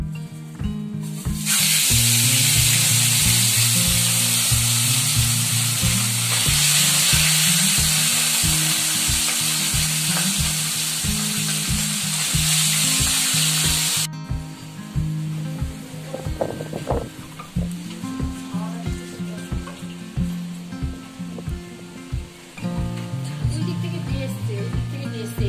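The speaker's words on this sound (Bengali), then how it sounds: "আর এটা তো অল্প তেলে ভাজা।" Fish shallow frying in a little oil gives a loud, steady sizzle with crackling pops, louder and broader at first and then settling into a quieter hiss with intermittent spatters, with no talking.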